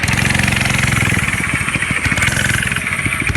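Ghost Rider's motorcycle revs steadily and loudly up close, a rough rhythmic engine throb that holds for a few seconds as the bike pulls away.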